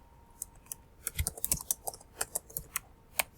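Computer keyboard keys clicking while a quiz title is typed into a Google Forms page: a dozen or so crisp, close taps in an uneven typing rhythm, with no voices.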